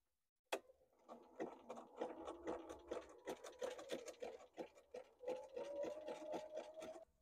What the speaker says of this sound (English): I'm going to start stitching a little bit before and end a little bit after where I stitched before